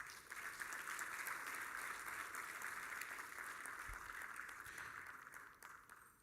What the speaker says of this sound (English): a big round of applause for the AfCFTA Secretariat